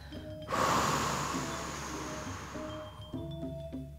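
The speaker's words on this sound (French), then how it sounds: "Expirez tout l'air." One forceful exhalation pushes all the air out of the lungs in a long breathy rush, close and loud, tapering off before a short sniff-like intake near the end.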